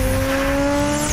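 A turbocharged custom Volkswagen dune buggy with a fiberglass body and over 300 horsepower revs loudly at a car show, giving a brief, sustained, tonal engine note heard up close, with no talking.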